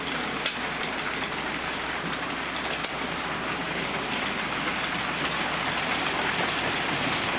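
An analogue model railway locomotive runs steadily along the track, a continuous mid-level rumbling hum with a couple of sharp clicks from rail joints, no voices.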